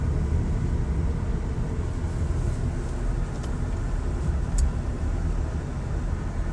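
Car driving through traffic in Saudi Arabia, with a steady, loud low road and engine rumble heard from inside the vehicle and a couple of faint clicks, no talk.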